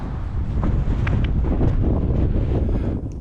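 Strong wind buffeting the microphone on coastal sand dunes, a loud, steady low roar with gusty rumble and no other clear sounds.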